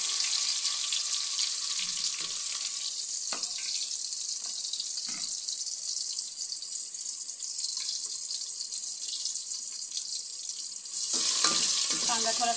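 Cumin seeds roast in hot oil in a pan for matar pulao, giving a steady hiss and crackle that runs evenly throughout with a few soft clinks, and it swells louder near the end.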